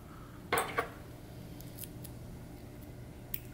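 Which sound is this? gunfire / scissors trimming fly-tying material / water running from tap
scissors trimming fly-tying material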